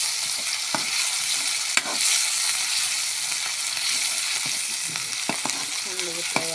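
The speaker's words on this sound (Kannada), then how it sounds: "ಚೆನ್ನಾಗಿ ಫ್ರೈ ಆಗಬೇಕು ಫ್ರೆಂಡ್ಸ್." A mint and coriander paste fries in a pan while chicken sukka is being cooked. The sizzle is steady and close, and a few stirring scrapes and clicks break through it.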